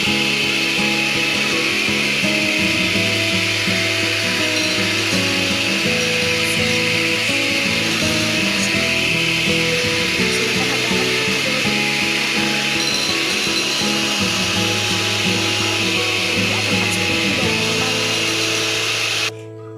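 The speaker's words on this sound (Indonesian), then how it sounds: "Mentega, telur, dan gula halus ini kita kocok sampai dia putih." An electric hand mixer beats butter, eggs and powdered sugar for a potato layer cake batter. The motor whines steadily and loud for about twenty seconds, its pitch shifting slightly as the beaters work through the mixture, with no talking.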